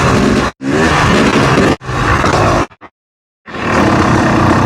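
A Yamaha YZ250 two-stroke dirt bike engine revs hard during a wheelie, loud and close, in sustained roaring bursts broken by brief cuts and a full second of near silence.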